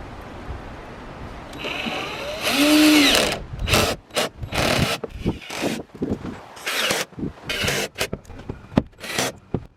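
A power drill drives screws into the rear header of a Suncast BMS8100 plastic storage shed, with a rising whir of the motor, then a series of short bursts and clicks separated by brief pauses, close and fairly loud.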